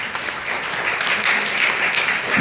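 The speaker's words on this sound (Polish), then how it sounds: "Wielkie brawa jeszcze raz dla mediatorów." An audience at a Polish mediators' event applauds steadily, a dense patter of clapping at moderate loudness with a faint voice or shout underneath.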